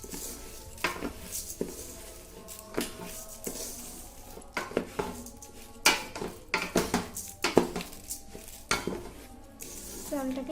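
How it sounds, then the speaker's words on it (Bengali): Polao rice, three cups, stirred and fried in a pan: irregular metallic clanks and scrapes of a utensil against the pan over a faint background sizzle. "এবারে কিছুক্ষণ নাড়াচাড়া করে ভেজে নিব।"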